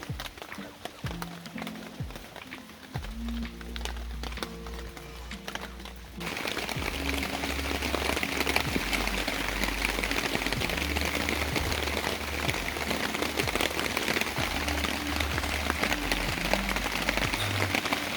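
Rain patters steadily on a camping tent, a continuous hiss of drops that grows louder and denser partway through, with low hum and faint rustling underneath.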